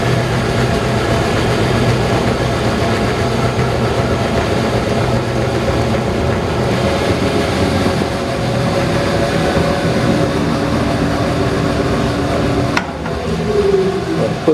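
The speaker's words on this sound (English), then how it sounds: "cut straight back with the bandsaw to make our slot" Bandsaw cutting a slot in an Alzmetall depth stop with a thin blade, a dense, continuous grinding rumble with steady machine hum throughout, close and loud, a brief clack near the end, no voices.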